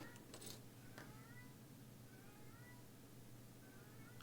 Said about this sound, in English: There's like a cat outside.